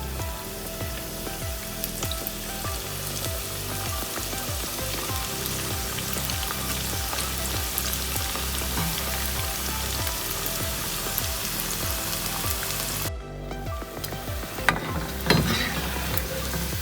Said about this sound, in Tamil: இதே மாதிரி நம்ம எல்லா உருண்டையும் பொரிச்சு எடுத்துக்கலாம்.